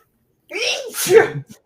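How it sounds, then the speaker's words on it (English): One loud, close sneeze with a breathy intake rising into a sharp burst, followed by a short trailing sound. "I'm about to sneeze."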